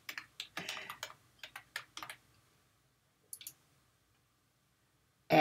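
Password keystrokes on a computer keyboard during a sign-in: a quick run of close, crisp taps for about two seconds, a pause, then a couple more taps in a quiet room.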